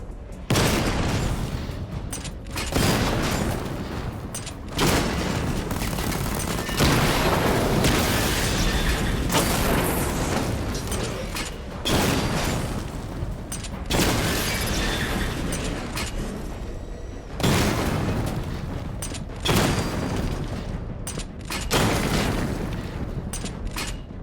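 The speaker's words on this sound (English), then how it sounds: "Charge the missile barrage to level 2 to destroy up to 4 targets at once." Batmobile missile barrage in Batman Arkham Knight, a series of loud, booming volleys that repeat every couple of seconds, each a dense roar of blasts with brief near-silent gaps between.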